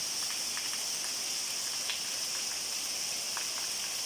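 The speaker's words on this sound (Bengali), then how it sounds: "সর্বনাশ বৃষ্টি, কি বৃষ্টি হচ্ছে" Heavy rain pouring down outdoors, a dense, steady hiss of drops striking surfaces with occasional louder nearby splashes, continuous and unbroken throughout.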